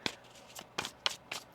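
Tarot deck being shuffled by hand at a reading table: five quick riffling bursts spaced irregularly, close and fairly soft, with no talk over them.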